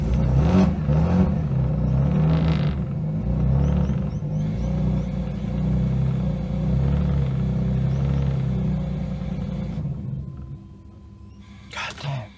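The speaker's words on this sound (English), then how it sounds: "I can hear the pump surge" A Lexus IS200 idles with a steady, close engine rumble while its fuel pump surges, the drone swelling and easing before it cuts out near the end, followed by a brief clatter.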